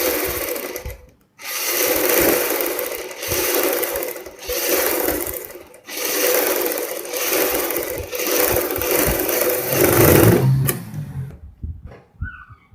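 An electric sewing machine stitches over the finished neckline of a kurti in long, loud whirring runs. Brief stops break the runs, and the motor winds down at the end.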